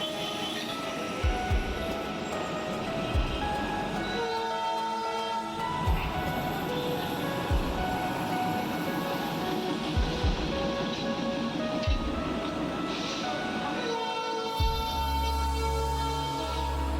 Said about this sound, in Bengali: এখন আবার টয় ট্রেনের ইঞ্জিনটা কয়লা আরও ভরবে, তারপর শান্টিং হবে, তাই জন্য এই পাশে সরে গেল।